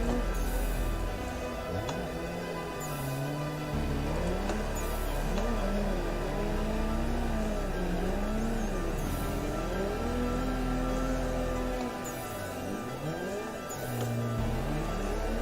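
A car engine in the Assetto Corsa driving game accelerating at full throttle up a hill, with a steady droning engine note that rises and falls in pitch as it revs through gears, sustained and moderately loud.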